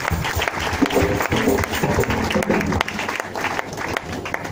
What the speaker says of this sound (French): Acclamons très fort, acclamons très fort